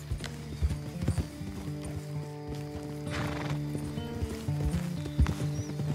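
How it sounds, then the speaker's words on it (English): Horse hooves clop in a steady walking rhythm with a neigh in Red Dead Redemption 2, close and clear over a low music bed and game ambience. "Get that horse in line, Arthur."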